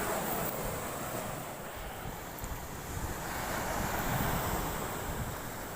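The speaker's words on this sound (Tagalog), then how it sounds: "Malakas ang alon." Strong sea waves at a beach make a continuous, rushing roar, mixed with heavy wind buffeting the microphone. No voices are heard.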